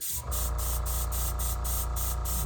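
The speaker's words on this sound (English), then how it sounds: "This is really fun to do when you're airbrushing" An airbrush spraying paint onto an antler being repaired, a steady, close hiss of air running without a break after a short start.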